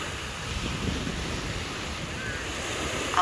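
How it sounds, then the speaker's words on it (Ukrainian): Steady wind rushes against the microphone by a rough sea, waves breaking in the background, a constant low roar with no voices. "такий сильний вітер, що от занадто прохолодно"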